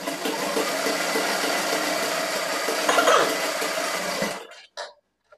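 A sewing machine stitching the hem of a small child's kurta pajama, a loud continuous close whirring run that stops abruptly near the end, followed by a couple of short bursts.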